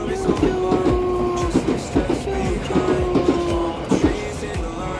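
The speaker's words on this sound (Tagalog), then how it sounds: "Nag-aantay kami dyan kasi may dadaang train. Ayan na, train!" A train rolls past at close range with a steady clatter of wheels over rail joints and repeated rhythmic clicks, a sustained tonal whine running through it, audible throughout.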